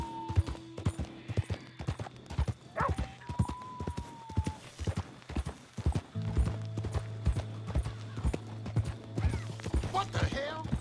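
Horse hooves clip-clop in a steady walking rhythm during a ride in Red Dead Redemption 2, close and clear, with ambient game sounds and a low hum joining partway through.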